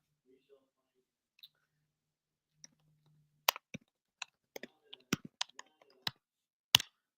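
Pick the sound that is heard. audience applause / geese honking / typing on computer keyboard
typing on computer keyboard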